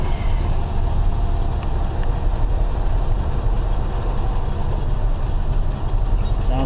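A Chevy II engine idles with its automatic choke set rich, a loud, steady low rumble that runs evenly and close throughout.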